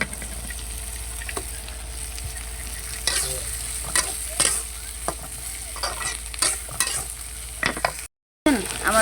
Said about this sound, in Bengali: তো এই দেখুন আমি ঢেঁড়সটা দিয়ে নিতেছি এখন।